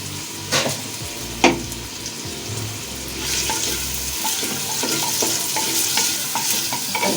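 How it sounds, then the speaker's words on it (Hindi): Ginger garlic paste and salt fry over high heat in a pan, with a few sharp spoon clanks and low rumbling stirs at first, then a rising, steady sizzle; no speech. "तकरीबन 5 मिनट तक चलाएं तेज आंच पे"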